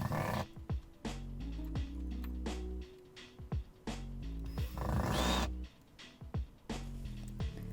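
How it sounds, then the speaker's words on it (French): Screws being driven through metal brackets into wooden boards in a studio workshop, with repeated creaking, ratcheting turns and short knocks, close and fairly quiet, no talk. "donc maintenant que c'est troué, on visse."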